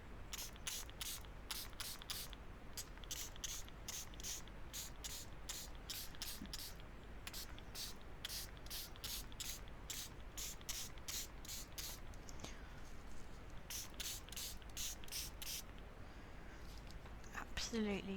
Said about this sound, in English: Just gonna give this a spritz from quite a distance.